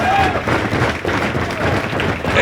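A Budapest crowd at a live pro wrestling show cheers and roars in a dense, loud, continuous wash of voices and applause filling the arena.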